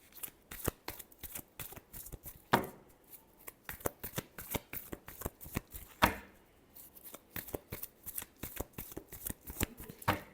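Tarot cards being shuffled in quick, dense riffles, a steady run of crisp papery flicks with two sharper bursts, close and alone without talk.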